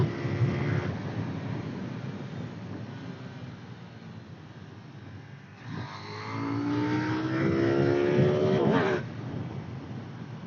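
A KTM Duke 890 R motorcycle being ridden, a rumbling engine under heavy wind buffeting that rises into a louder rev midway before settling back.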